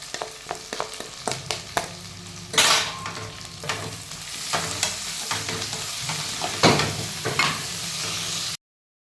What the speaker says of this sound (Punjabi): ਤੁਸੀਂ ਦੇਖ ਸਕਦੇ ਆ ਆਲੂ ਨੂੰ ਲਗਾਤਾਰ ਆਪਾਂ ਹਲਾਈ ਜਾਣਾ